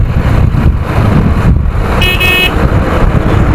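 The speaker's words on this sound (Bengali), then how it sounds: "আর এই তেলের ট্যাঙ্কারটা বেশ জোরে চালাচ্ছে, স্পিডে চালাচ্ছে" Loud passing traffic in a city, with a Bharat Petroleum oil tanker truck speeding along, engine roar close by and a short horn toot midway.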